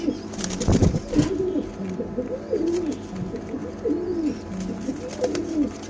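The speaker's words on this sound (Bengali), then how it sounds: "এগুলা সবগুলাই মোটামুটি এবার রেজাল্ট করা কবুতরের বাচ্চা" Young pigeons coo repeatedly in soft, throaty rolling calls, close by. A brief knock or rustle of handling comes near the start.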